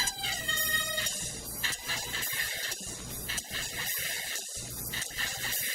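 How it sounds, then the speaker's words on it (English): A slowed, grainy granular-synth texture from a phone app, smeared with a sweeping phaser-like shimmer, stutters and drones steadily and fairly loud, with broken grain bursts and no voices. "Slow it down, add some grain. It's like a phaser sound."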